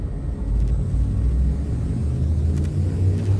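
Spaceship drive charging in Elite: Dangerous aboard an Anaconda: a loud, steady low rumbling hum that swells slightly and sustains for a few seconds, with no speech.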